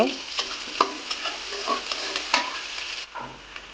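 Chopped onion and sliced green chilli fry in hot oil, a close sizzle broken by scraping stirs in an uneven rhythm, before it suddenly drops away near the end, with no voices.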